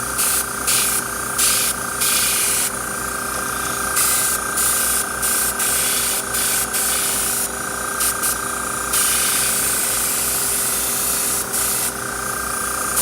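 Airbrush spraying paint onto a model or part in steady hissing bursts that switch on and off repeatedly, loud and close, with a faint steady compressor hum running underneath.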